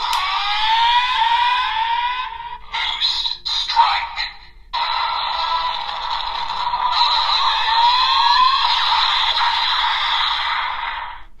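A Desire Driver toy transformation belt plays a loud strike sound with rising, sweeping synthesized tones and a brief choppy break, then a long sustained bright whine.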